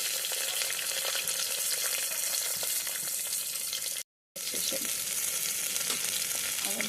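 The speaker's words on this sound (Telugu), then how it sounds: "ఇప్పుడు ఇందులోనే కరివేపాకు వేసేయండి, ఉల్లిపాయలు వేసేయండి" Onions and curry leaves frying in oil alongside cumin and mustard seeds for a bendakaya charu, a dense, even crackling sizzle, close and loud, cut by a brief moment of silence partway through, no speech.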